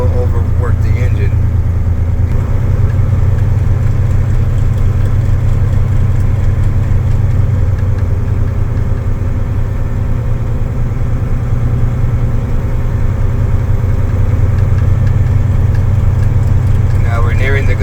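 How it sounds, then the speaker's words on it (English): A truck's engine idles steadily during a CDL vehicle inspection, a loud continuous low rumble with a slight change in pitch near the start, while someone talks over it throughout. "do not accelerate any more than what I'm doing now, or you will overwork the engine."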